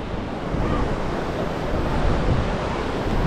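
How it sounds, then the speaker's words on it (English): Ocean waves breaking on the Garden Route shore in South Africa, a loud continuous rumbling wash of surf with wind noise buffeting the microphone and no voices. "Look at the waves."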